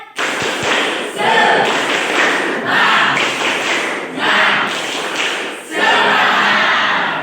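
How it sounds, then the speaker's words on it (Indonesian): A group of students in a classroom does a spirit clap, in loud rhythmic bursts of clapping and shouting voices separated by brief dips, repeating several times. "Tepuk semangat."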